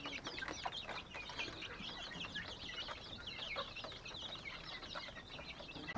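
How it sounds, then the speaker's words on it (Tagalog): Newly hatched three-day-old chicks cheep constantly in high, overlapping peeps, with chickens clucking nearby, all fairly faint and steady throughout. "Ito yung mga bagong baba natin na mga sisiw."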